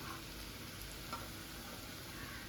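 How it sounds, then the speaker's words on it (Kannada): Rice stirred into egg masala in a pan for a Mangalore-style egg rice: a faint, steady sizzle with soft stirring, with no talking. "ಇದಕ್ಕೆ ಎಲ್ಲ ರೈಸನ್ನು ಹಾಕಿ ಮತ್ತೆ ತಿರುಗಿಸಿ"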